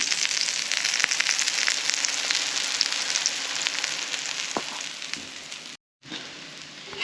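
Ragi adai made with drumstick leaves fries in groundnut oil on a stone griddle. A loud, continuous crackling sizzle is heard with scattered pops, broken by a brief silent gap near the end.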